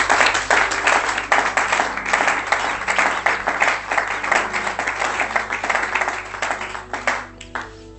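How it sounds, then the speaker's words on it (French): A church congregation claps and applauds loudly and steadily through most of the stretch, a dense crowd sound that thins and fades toward the end. "Applaudissez le Seigneur pour cela."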